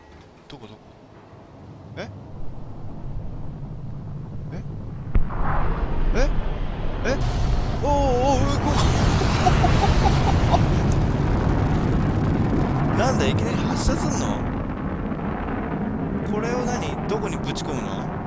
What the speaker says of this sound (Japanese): あれ、爆発しちゃったよ